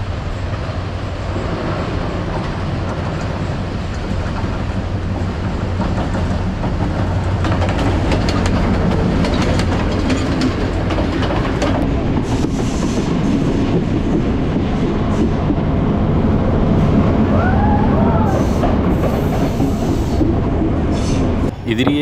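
A Kandy train runs along the rails with a loud, close, continuous rumble and rattle, its steady wheel and carriage noise filling the whole stretch.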